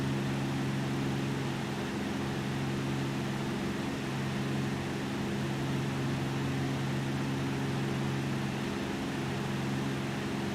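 The engine of a Lancair Legacy RG single-engine retractable-gear aircraft drones in the X-Plane 11 flight simulator, a steady, unbroken propeller hum with a strong low tone at an even level throughout, with no talk.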